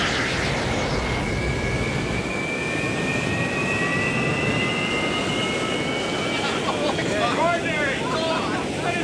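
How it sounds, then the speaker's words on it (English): A jet aircraft engine roars with its afterburner engaged, a loud, steady broadband rush with a whining tone sliding upward. It carries through the whole stretch, and talk joins it near the end. "Get the afterburner."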